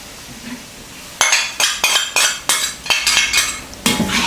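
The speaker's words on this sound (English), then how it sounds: "Stir fry over high heat to generate the warm aroma for a short while." Yaki udon with seasoning mixture and capsicum is stir-fried over high heat in a pan, a quick run of close, loud metallic scrapes and clinks in an irregular rhythm, with no talking.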